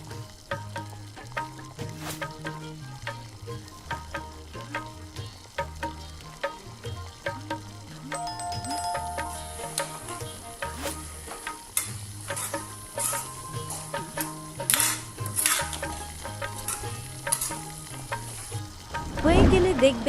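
Dried jujube pickle being stirred in a pan with roasted coriander and cumin powder, a steady low sizzle of thick frying mixture under repeated scraping strokes of a spoon, close and moderately loud throughout.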